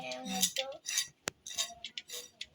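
A metal spoon scrapes and clinks against a dish in a quick series of short strokes, close and fairly quiet, with one sharp tap in the middle.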